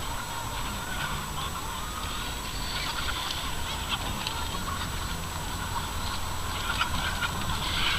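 A huge flock of about 5,000 chickens crowds a farm at feeding time, its dense, continuous clucking and squawking chatter filling the air steadily at close range without pause.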